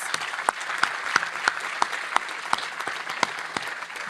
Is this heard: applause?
yes